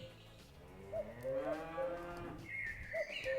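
Cattle at a ranch in the game Industry Giant 2 moo several times in a row, drawn-out lowing calls that are fairly faint, with a couple overlapping near the end.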